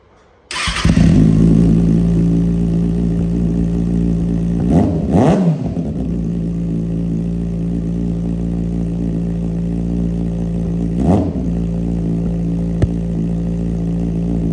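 A 2021 Kawasaki ZX-6R motorcycle with an M4 Street Slayer exhaust fires up and settles into a loud, steady idle, with a couple of sharp revs blipping the throttle along the way.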